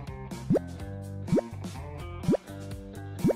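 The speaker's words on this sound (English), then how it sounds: "And water it." Freshly sown seeds are watered with four evenly spaced, upward-bending water-drop plops, each clear and close, over steady background music.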